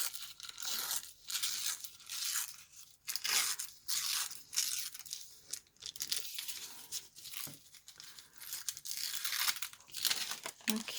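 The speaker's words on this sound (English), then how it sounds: "So I'm just gonna go and roughly cut it down." A paper window envelope is roughly cut down by hand, giving repeated close crinkling, rustling and tearing bursts in an uneven rhythm, with no talking.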